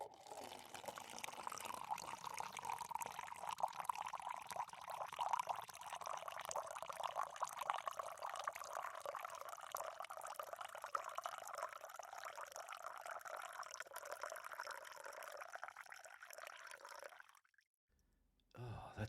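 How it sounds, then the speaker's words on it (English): Bourbon barrel-aged imperial stout being poured, a long continuous glugging and fizzing flow running for over fifteen seconds at close range, then stopping abruptly. "You can pour the beer now."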